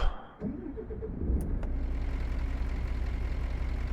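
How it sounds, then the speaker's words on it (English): A Ford F-Max truck engine cranks and catches, settling into a steady low diesel idle rumble close up, with a couple of faint clicks near the start. "when you start the truck up"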